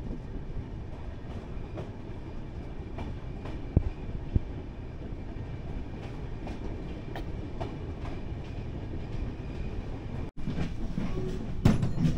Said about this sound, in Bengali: বোলপুর থেকে ট্রেন আমাদের ছেড়ে দিল